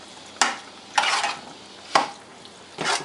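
Refried beans being stirred in a pot for Mexican lasagna, four short scraping, squelching strokes spaced about a second apart, close and fairly loud with quiet gaps between.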